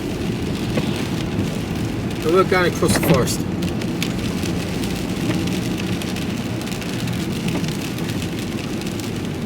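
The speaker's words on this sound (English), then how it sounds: "Oh, it's rain." Rain falls on a vehicle driving through a forest, a steady patter under engine hum, with someone speaking briefly.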